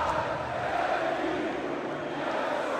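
Fluminense supporters filling a football stadium, a massed crowd roar and chant carrying as a broad, steady wall of voices from the stands, constant and moderately loud without a break.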